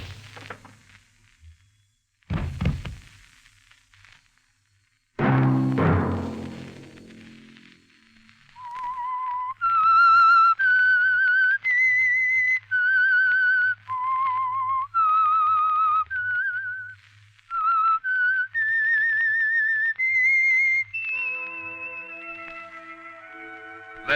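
After a couple of sharp, abrupt noises, someone whistles the lilting theme tune of the 1951 radio drama The Whistler alone, clear and close, in distinct phrased notes.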